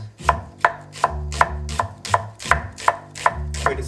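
A knife chops a vegetable on a cutting board, about ten crisp, evenly spaced knocks in a steady rhythm, close and clear with no talking.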